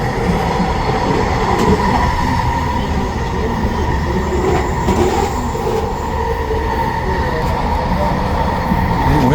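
Metro train cars rolling past on a westbound run, a steady loud rumble of wheels and cars that fills the whole stretch with faint squeal and rail clatter, no talking.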